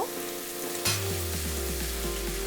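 Potatoes and mixed vegetables fry together in a hot pan. A sharp sizzling burst comes as they go in, then a steady crackle continues under a faint tonal hum, with no voices.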